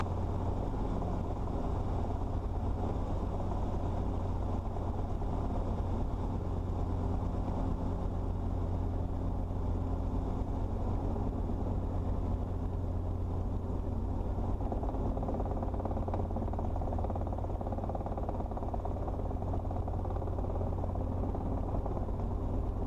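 A helicopter flies on a private pilot check ride, heard from inside as a steady loud rotor and engine drone that keeps going without a break and drowns out everything else.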